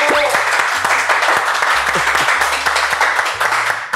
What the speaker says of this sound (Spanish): Un aplauso, mi gente.